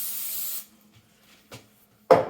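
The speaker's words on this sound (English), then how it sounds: "Put a little bit of non-stick spray on it" Non-stick cooking spray hisses in one steady burst from a can onto seasoned food, followed by quiet handling and a short loud rustle near the end.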